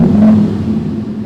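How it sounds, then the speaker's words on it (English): A 2023 Audi R8 V10 Exclusive Edition in dynamic mode with exhaust open, inside an underground garage: a loud, steady low engine drone that eases slightly, with no talking. "now it's time for the R8 to make some noise, putting the windows down and listening up to the mighty V10"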